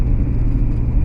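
A Chevy 2500 Avalanche truck driven off-road, its engine giving a steady, loud, low rumble from inside the cab with no change in pitch.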